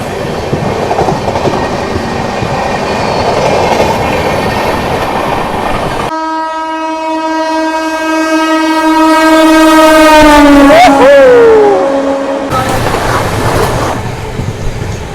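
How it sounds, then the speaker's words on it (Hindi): The Tejas Rajdhani Express overtakes the Magadh Express in thick fog, its horn sounding long and loud over the rumble and clatter of passing coaches, with a bending pitch as it sweeps by close. "Tejas Rajdhani express overtaking Magadh express."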